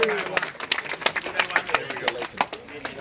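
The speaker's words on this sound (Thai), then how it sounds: "ขอเสียงปรบมือหน่อย" A small audience claps at a shooting event in Thailand, a few scattered, uneven handclaps heard under people talking.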